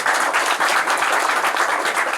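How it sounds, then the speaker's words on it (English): A lecture audience of students and faculty gives a big round of applause for a railway engineer's talk, dense and continuous clapping filling the room at full strength. "In your huge round of applause"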